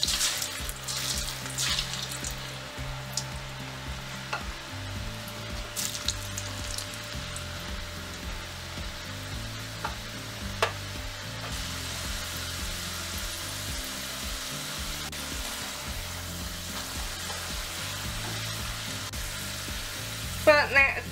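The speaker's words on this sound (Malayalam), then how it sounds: "എണ്ണയിലിട്ട് കൊടുക്കാം" Potato french fries deep frying in hot oil on a medium-high flame, a steady close crackling sizzle that continues throughout, with occasional clinks of utensils.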